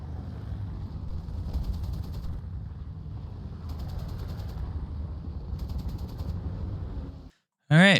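Rapid bursts of aircraft machine-gun fire from a flight combat video game, sustained near and loud across the clip with mechanical clatter, cutting off abruptly before a brief sharp sound at the end.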